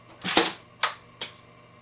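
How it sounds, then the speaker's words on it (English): A Graflex RB Super D 4x5 SLR's large roller blind shutter fires as three sharp mechanical snaps: a longer, broader clatter first, then two crisp clicks about 0.4 seconds apart, close and clear against a quiet background. "It's got a giant roller blind shutter which has different slits"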